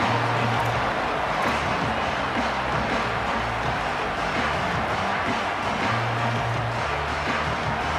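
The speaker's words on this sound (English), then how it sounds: "This crowd ready to make its presence known" Stadium crowd noise from the College Football 27 video game forms a continuous broad roar at steady loudness, with faint commentary mixed in.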